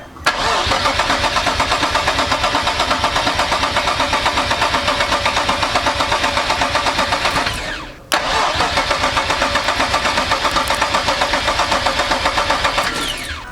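Long, loud cranking of an Infiniti Q60 engine swapped into a Nissan 370Z during its first start attempt, with a steady rapid starter whir that runs about eight seconds, stops briefly, then resumes without the engine catching.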